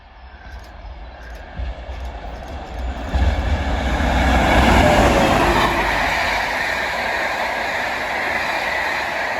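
A railtour train hauled by two Class 47 diesel locomotives passes at Headcorn, Kent, a rumble that builds over several seconds into a loud, sustained roar of engines and rolling wheels.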